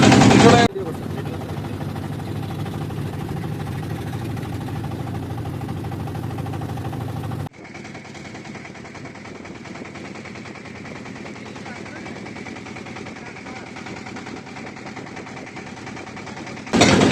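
A hired trawler boat's engine drones steadily on the way to Sada Pathor near Bholaganj, Sylhet, loud and close throughout with a change in tone midway; brief voices at the start and end.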